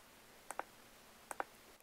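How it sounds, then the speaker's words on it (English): The set button on a Bayite thermostat temperature controller is pressed twice, each press giving a quick pair of crisp plastic clicks, close and quiet against a near-silent background. "Continue clicking the set button until you see"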